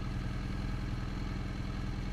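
A motorcycle coasts without power toward a stop, and a steady close engine putter with regular low pulses and light clatter continues evenly throughout.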